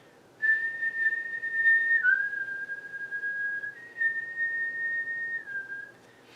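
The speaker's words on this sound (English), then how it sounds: "the next part is this kind of whistling noise" A clear, sustained whistling tone from a music piece holds one pitch, dips slightly, then rises again in long smooth notes, fairly loud against a quiet background.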